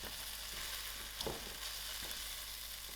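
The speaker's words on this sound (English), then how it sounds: "to the onions, I'm going to throw in my masalas and also give this a few seconds" Masala spices fry with onions in a pan, giving a steady, close sizzle and crackle with a few brief stirring clatters.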